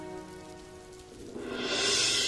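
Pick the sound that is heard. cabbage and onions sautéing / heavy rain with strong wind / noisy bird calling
heavy rain with strong wind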